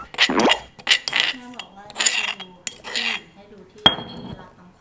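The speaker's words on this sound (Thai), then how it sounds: "หลังจากนั้นเราก็โขลกกระเทียมเข้าไป" Garlic is pounded in a mortar while preparing a drink: several sharp, close knocks and clinks at an irregular pace, with someone talking over and between the strikes.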